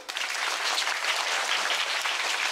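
A school audience claps together at a writers' club inauguration, dense steady applause filling the whole moment, close and evenly loud with no voices over it.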